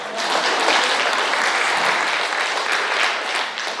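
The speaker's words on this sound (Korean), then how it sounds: "박수." A congregation at a church lecture claps together in a dense, steady burst of applause that stays full and even from start to finish, with no talking over it.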